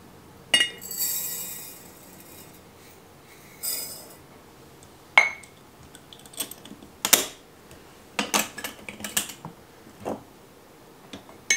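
Coarse salt is poured and measured into glass jars, giving sparse bursts of gritty pattering and small glassy clinks separated by quiet gaps, close and fairly soft.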